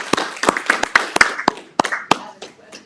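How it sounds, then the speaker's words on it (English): Scattered hand clapping from a small meeting audience, a dozen or so distinct sharp claps spread unevenly over a few seconds, fairly close and moderately loud, thinning out toward the end. "Thank you for the applause"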